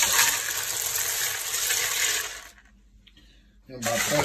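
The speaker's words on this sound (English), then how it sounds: "Pour a little more ice on top of" Ice pours over cooked Florida stone crabs in an ice-water bath, a loud, rushing clatter lasting a couple of seconds, then a brief quiet gap with faint knocks before another burst of pouring.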